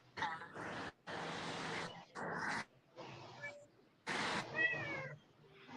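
A cat meows repeatedly in a series of separate, fairly loud calls, with dog-like whimpers mixed in and short gaps between them, heard close up.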